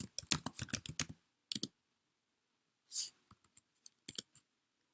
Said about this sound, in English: You type git branch.